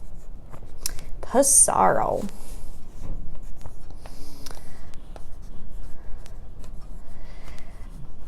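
Pencil or pen scratches across paper in short, close strokes as terms are written down, with a voice speaking briefly between the writing sounds.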